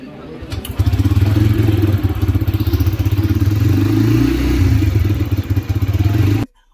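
A Bajaj Freedom 125 CNG motorcycle fires up on its self-start, quickly settling into a steady, close, throbbing idle that runs for several seconds before cutting off abruptly.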